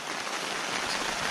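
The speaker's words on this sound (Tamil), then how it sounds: "இப்போதான் மழை பெய்ய ஆரம்பிச்சிருக்கு" Light rain beginning to fall at a hillside campsite in Pachamalai, Tamil Nadu, a steady, even hiss of drops that fills the short stretch without a break.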